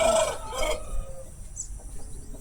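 An Aseel rooster gives a short crow and clucks, fairly close and moderately loud, with a quieter bird note after it.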